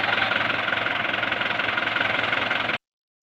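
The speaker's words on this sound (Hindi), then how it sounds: "उसके बाद ये ट्रैक्टर मूव किया जाता है पूरे खेत में" A tractor engine runs steadily while pulling a seed drill across a peanut field, a loud, even knocking drone that cuts off abruptly.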